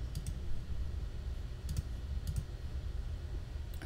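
A computer mouse clicks at a desk in short, sharp pairs of clicks spaced across a low steady background hum, with no talking.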